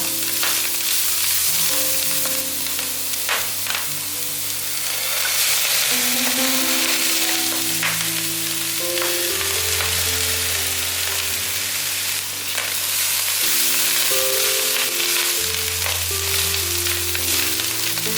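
Taro, celery and cabbage stir-frying in a wok for a vegan dish, a loud steady sizzle with occasional scrapes, heard under a sustained musical backing.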